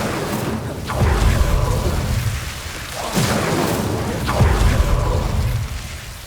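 Spell blasts and booming bursts in the Hogwarts Legacy video game, several loud rumbling impacts roughly every one to two seconds over a dense, continuous game soundscape.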